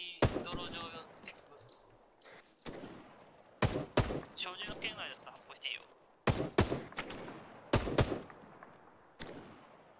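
Rifle fire in an Arma 3 military rescue mission, with sharp broadband shots in several clustered bursts spread across the stretch, heard under players talking over radio chatter.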